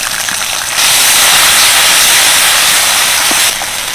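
Water from rinsing the spice bowl hits spice paste in a hot pan over low heat, making a loud, steady steam hiss that swells after a moment, holds, and then eases slightly.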